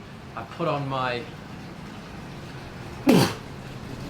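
A single sharp sneeze bursts out beside a hotel-room hot tub, brief and fairly loud, following a short stretch of quiet talking.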